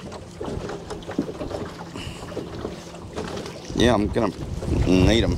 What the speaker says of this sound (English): Man, that wind is fucking ferocious.